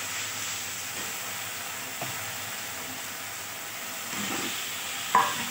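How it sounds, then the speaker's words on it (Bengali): Boiled potatoes being stirred into a spice paste as they fry, giving a steady soft sizzle with a few light scraping stirs near the end, with no voices. "মশলাটা ভালোভাবে কষা হয়ে গেলে সেদ্ধ করে রাখা আলুগুলো দিয়ে দেবো।"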